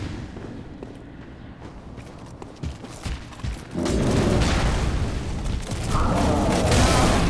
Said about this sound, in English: that's gonna get me killed, those damn gunshots